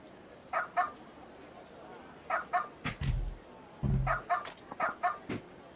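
Dog barking in the Like a Dragon: Ishin! video game, several sharp bark bursts in short clusters over a low background, with a couple of low thuds in between.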